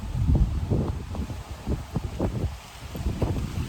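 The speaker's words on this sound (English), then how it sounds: "pretty windy out here." Gusty wind buffets the microphone with low rumbling blasts, rising and falling throughout with no voices.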